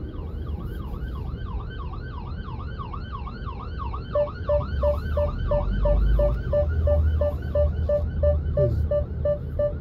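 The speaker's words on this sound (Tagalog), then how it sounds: "Wala kasing express lane yung ambulansya." An ambulance siren wails, sweeping up and down continuously, joined midway by a second, higher yelping tone, over the rumble of nearby road traffic in Muntinlupa, Metro Manila.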